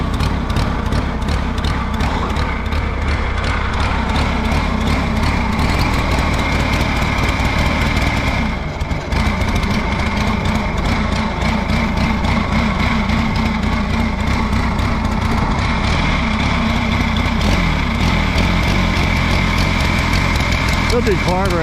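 An Allis Chalmers G tractor engine runs steadily and loudly throughout, driven in snow with a possible spark plug wire or carburetor problem, its rough, uneven idle dipping briefly near the middle while a person talks over it.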